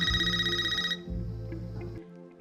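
A telephone in the movie Scream (2022) rings with a bright electronic trill, a long burst followed by a quieter second ring under a low, tense background drone.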